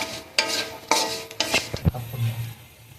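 Spices for akhni biryani are stirred and braised in a pot, heard as a few loud scraping strokes of a spoon against metal with knocks, over a low sizzle.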